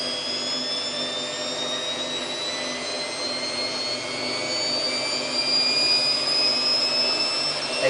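A Samsung WF8804RPA washing machine drum spins up in service mode with a steady whirring hum and whine that rise in pitch and grow slightly louder as it gains speed.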